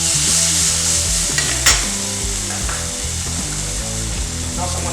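Heirloom tomatoes sizzle and fry in olive oil in a pan for shrimp scampi, with a steady loud crackle and occasional stirring knocks, no talking.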